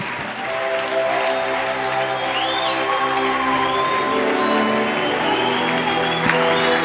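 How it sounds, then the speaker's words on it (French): Loud sustained applause and cheering from a church congregation praising the Lord, a dense continuous clapping wash with a steady hum underneath throughout. "Déposez vos Bibles et acclamez très fort pour le Seigneur"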